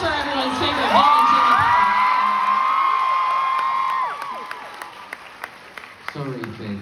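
A fan expo panel audience bursts into applause, cheering and whoops as a surprise guest comes out, the crowd noise swelling loud, then fading into scattered claps and a few shouts.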